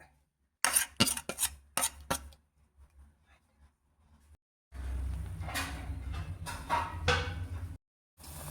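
A spoon scrapes and clinks against a pan while ground coconut paste for bitter gourd pachadi cooks, with bursts of sharp metallic scraping followed by a steadier sizzling stir.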